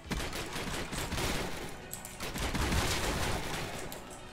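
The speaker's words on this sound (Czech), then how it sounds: "Slyším střelbu." Dense, continuous gunfire from a Roblox zombie game fills the whole stretch, with overlapping rapid shots forming a steady barrage at moderate loudness and no speech over it.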